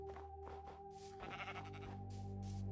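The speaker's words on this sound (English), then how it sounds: "Oh, I hear sheep." Sheep bleat faintly a few times in Minecraft over a steady droning game background with soft ambient tones.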